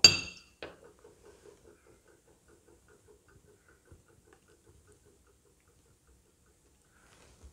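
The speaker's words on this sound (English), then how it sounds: "At this time, I normally like stirring it a bit." Spoon stirring a drink in a glass: a bright clink at the start, then a long run of faint, quick, evenly spaced ticks against the glass that slowly fade in a quiet room.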